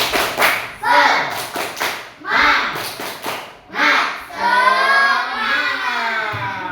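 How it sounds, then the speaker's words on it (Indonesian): Schoolchildren repeating a rhythmic spirit clap, crisp clustered claps in short patterned groups between shouted chants, closing with a drawn-out group cheer. "Ayo sekali lagi yuk. Tepuk semangat"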